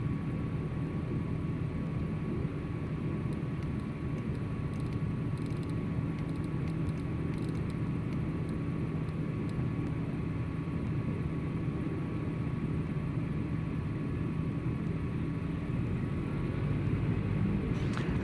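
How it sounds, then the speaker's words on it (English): An Airbus airliner taxiing at a Tampa airport in Microsoft Flight Simulator 2020, heard as a steady low jet-engine rumble and whine, constant and moderately loud from a nearby parked aircraft's perspective, with no talk. "I think that was an Airbus taxiing in front of me."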